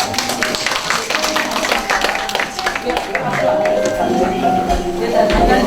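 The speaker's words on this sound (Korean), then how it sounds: "박수 한번 주세요" Audience applause at a community talk-show gathering, a steady mass of claps from a crowd filling the room, with a voice briefly speaking over the clapping near the end.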